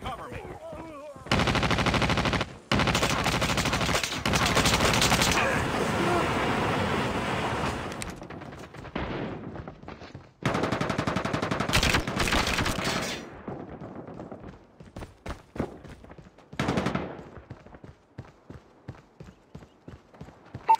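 Gunfire in Call of Duty Mobile, a team deathmatch shooter, comes in long loud automatic bursts and single shots, some near and harsh, others thinner, with gaps and scattered game effects between.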